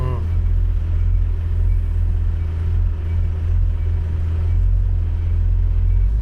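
A 1971 Oldsmobile 442 W-30 V8 with retarded timing and a 750 Edelbrock carburetor idles steadily, a deep, continuous close-up rumble that barely changes across the clip.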